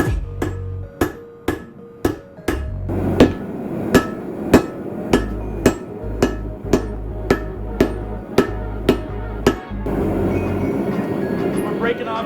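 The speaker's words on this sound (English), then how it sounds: "We're breaking off some weld from the when I had a handle attached to it" Repeated heavy hammer blows ring out on forged Damascus steel, knocking off old weld where a handle was attached, about fifteen sharp metallic strikes in a steady rhythm, close and loud, with a brief pause partway through.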